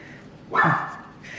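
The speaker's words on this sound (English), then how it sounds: "you can probably hear Steve barking in the background there." A single dog bark rings out at moderate distance, short and clear above a quiet background.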